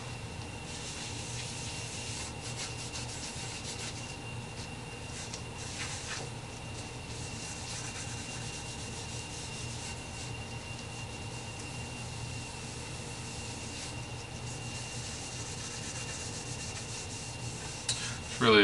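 A cloth wipes leftover Tru-oil off a flamed walnut guitar body, giving a soft continuous rubbing and swishing at close range with no talk.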